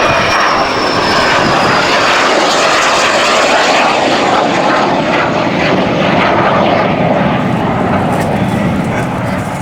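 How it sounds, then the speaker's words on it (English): A two-seat Hawker Hunter jet makes a low, slow display pass in 2001, its loud engine roar filling the air and sweeping steadily as it passes close by. "And we're going to get the same from the two-seater. Low and slow."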